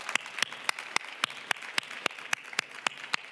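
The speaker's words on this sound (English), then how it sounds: "let me give you a fantastic applause for your inspiring remarks" Sparse, evenly spaced claps repeat steadily over a quiet background, like a small audience applauding at a moderate distance at a global food forum in Barcelona.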